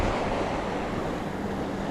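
A strong crosswind blows steadily during a fishing trip, buffeting the microphone with a constant, loud low roar.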